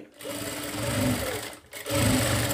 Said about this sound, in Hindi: अब इस तरफ भी लगाएंगे हम सिलाई